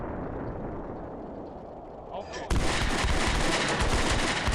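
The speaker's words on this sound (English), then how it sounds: "When the artillery is striking all around them" Artillery and gunfire in the WWII strategy game Combat Mission: Beyond Overlord, set at La Fiere: a dense, steady rumble that jumps suddenly louder halfway through into a heavy, continuous barrage of shots and blasts.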